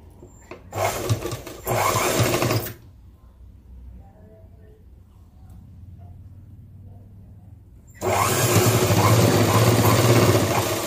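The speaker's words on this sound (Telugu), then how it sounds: "ఓన్లీ జిబ్బు మీద ఇటు సైడ్ మాత్రమే ఈ వారకు కుట్టు పడేలాగా ఒక కుట్టు అయితే వేసేసేయండి" A sewing machine stitches a zip attachment onto cloth in two loud, close bursts of rapid mechanical whirring, separated by a quieter stretch of faint handling sounds.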